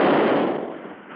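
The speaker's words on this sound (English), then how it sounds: "They're firing gas into the building." A burst of gas guns firing into a building under repair, a radio drama sound effect: one loud, broad hiss-roar that starts at full force and slowly tails off over about a second.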